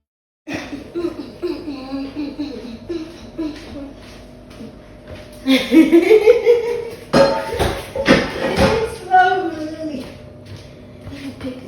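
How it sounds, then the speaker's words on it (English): Pots, a frying pan and utensils used for stir-fried rice being washed in a home kitchen, with clinks and clatter under ongoing talk and laughter. "we decided to clean the utensil that we used to cook it, both the pot and the fry pan and all of that"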